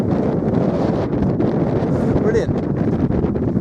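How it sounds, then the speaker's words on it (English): Strong wind gusts on an exposed Bodmin Moor hillside, buffeting the microphone in a constant loud roar, with a brief spoken word partway through. "It's quite windy."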